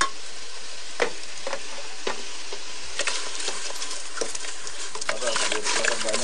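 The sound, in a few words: stirring jenang dough cooking in a pot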